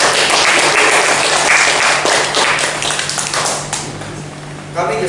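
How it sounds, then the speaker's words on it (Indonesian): Lively audience applause after a student presentation, a loud burst of many hands clapping that thins and fades toward the end, with a voice briefly heard at the close. "Marilah kita berikan tepuk tangan yang meriah."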